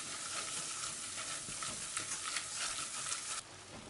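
Flour roasts in melted butter in a pan with a steady, close crackling sizzle and scraping stir strokes throughout, with no talking.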